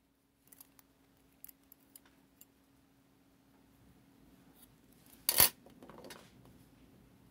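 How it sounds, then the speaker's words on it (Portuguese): Scissors snip crochet yarn in a quiet room, a single close, crisp cut preceded by faint small handling taps and followed by light rustling. "aqui eu vou cortar o fio"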